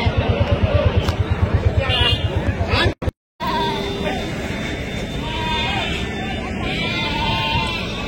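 Rajasthan goats at Pileru market give a series of nearby bleats amid a busy outdoor crowd, with people talking throughout.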